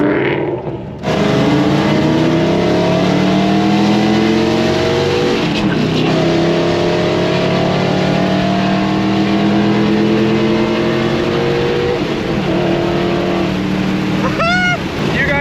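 A Ford Mustang S550 engine revs hard and roars through rising gear sweeps, loud, close and dominant, with brief pauses between pulls.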